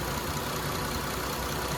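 A 1995 Acura Legend with a 3.6 V6 idles warm after running for a while, a steady, dense, broadband engine hum with faint knocking texture, heard close and continuous without speech.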